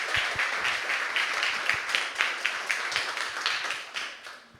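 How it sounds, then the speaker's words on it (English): Audience applause welcoming a speaker to the stage at a business presentation, a modest crowd of individual claps with distinct hand strikes audible, steady then tapering near the end. "Little round of applause"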